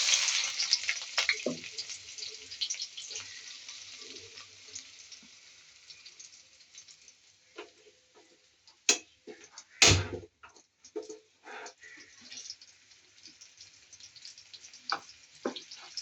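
Ginger, garlic and onion fry in a pan with a steady, moderately loud hiss and sizzle, broken by occasional clinks and stirring knocks, with no one talking.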